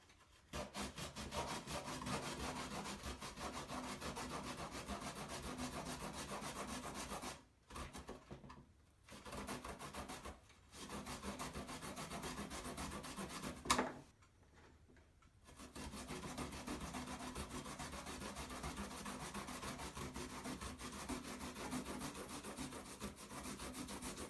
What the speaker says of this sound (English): we're going to grate it using the smallest grater we've got